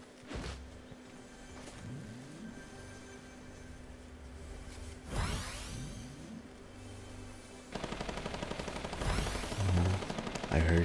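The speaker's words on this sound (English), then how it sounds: "I heard shots." Rapid gunfire rings out in a Fortnite Battle Royale match, bursts of shots spread over the clip with a vehicle-like engine whine in between and a denser volley of shots near the end.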